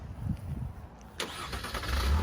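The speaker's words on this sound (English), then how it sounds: "there is that Blue Tech efficiency engine just starting up" A 2013 Winnebago Era RV's Blue Tech diesel engine cranks and catches, a brief starter burst followed by a steady, quiet idle rumble nearby, with no talking.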